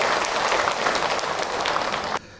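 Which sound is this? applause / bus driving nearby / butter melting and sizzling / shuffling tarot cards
applause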